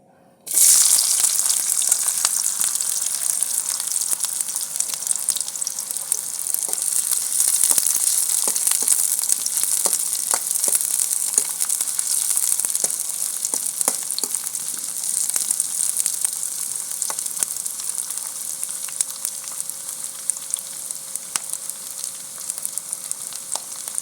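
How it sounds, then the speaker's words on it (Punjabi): Green chili and onion go into hot ghee and start a loud, steady sizzle right away. The frying hiss stays close and constant throughout, with faint crackles and stirring, and no voices. "ਹੁਣ ਘਿਓ ਗਰਮ ਹੋ ਗਿਆ ਆਪਾਂ ਹਰੀ ਮਿਰਚ ਤੇ ਗੰਢਾ ਪਾਵਾਂਗੇ"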